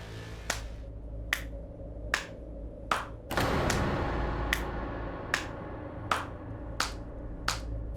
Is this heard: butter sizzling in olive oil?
no